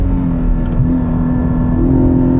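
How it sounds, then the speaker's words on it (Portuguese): Porsche engine held at the rev limiter, a loud steady buzzing drone with a strong low tone that bounces slightly as the limiter cuts in, close and continuous with no talking. "Vamos cortar giro de novo."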